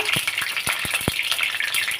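Bay leaves, dried chillies and whole spices sizzle in hot oil in a kadai, a loud continuous frying crackle with a few sharp pops and stirring clicks.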